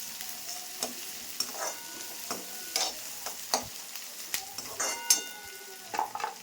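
Chopped onions fry in oil for Maharashtrian kanda poha, a continuous sizzle broken by repeated spatula scrapes and taps against the pan at an irregular, fairly quick pace.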